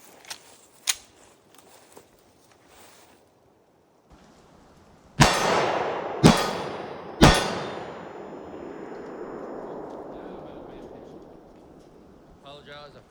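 Three loud 9mm pistol shots ring out in quick succession, each with a sharp crack and a long fading echo, preceded by quieter metallic clicks and handling noises at an outdoor shooting test.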